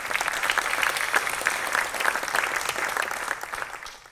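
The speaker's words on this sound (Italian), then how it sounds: "Flavia Trupia, veramente un grandissimo applauso." Audience applause for speaker Flavia Trupia at a public talk in Pordenone, a steady dense clapping from a large crowd lasting about four seconds before fading slightly at the end.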